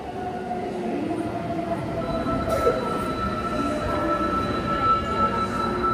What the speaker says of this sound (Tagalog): Ayun na yung tren, oh.